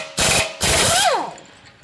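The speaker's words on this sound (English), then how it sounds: "So I'm using an impact to remove the nut" An impact wrench hammers at a Honda axle nut in two loud, close bursts, the second winding down with a falling whine as the motor spins to a stop.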